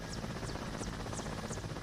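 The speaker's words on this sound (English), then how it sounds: "It's a bigger helicopter." A large Mi-17 helicopter in Microsoft Flight Simulator drones with a steady, dense rotor and turbine roar, with regular rhythmic blade swishes recurring about every third of a second, loud and continuous.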